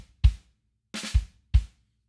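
A snare drum double-stroke drag leading into bass drum kicks, played as a few short, crisp, close-miked figures with brief pauses between them.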